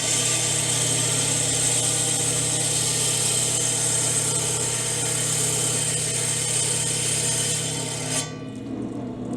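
A powered saw cuts the end off a glass piece braced against a wood block, giving a steady loud whine and grinding hum that stops abruptly near the end.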